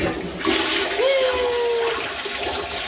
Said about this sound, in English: it is at least smart in that when you flush